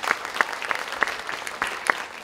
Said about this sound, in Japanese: 皆さん、拍手でお迎えください。